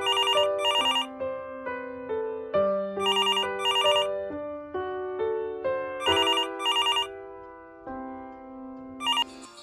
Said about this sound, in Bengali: ফোন এলো।